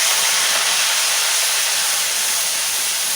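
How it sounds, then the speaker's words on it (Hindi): Ginger and garlic sautéing in a pan for matar chaat, heard as a loud, steady, even sizzle and hiss that continues alone throughout. "अब हम इसमें अदरक लहसुन ऐड करेंगे। इसको भी हम सौटे करेंगे"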